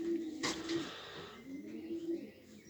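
A large young pigeon coos close by in a steady, low, throaty rhythm, with a sharp brief rustle or knock partway through and faint background noise throughout.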